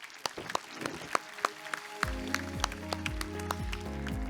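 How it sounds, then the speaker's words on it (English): Scattered, faint hand claps greet a guest at a formal Islamic finance position paper launch, with sparse separate claps and a low steady tone entering partway through. "please join me in giving a round of applause to our dear guest"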